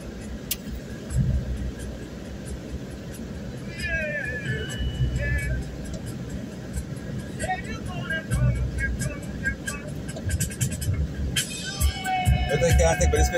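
Heavy road traffic rumbling past: a continuous low engine drone with vehicles swelling and fading, a few horn-like tones and street bustle, while someone talks over it close by.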